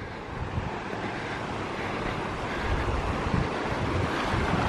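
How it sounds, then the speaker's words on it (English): A swollen, full river rushes in a broad, steady roar close by, with wind buffeting the microphone and no talking. "The river sounds like extra full."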